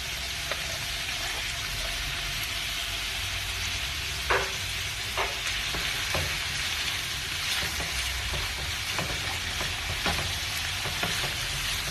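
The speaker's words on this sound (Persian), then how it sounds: "میذاریم که کاملا گوشتمون تفت بخورن." Meat sizzling steadily in a hot pan while it is stirred, a dense continuous frying hiss with scattered clicks and scrapes from the utensil, close and alone without talk.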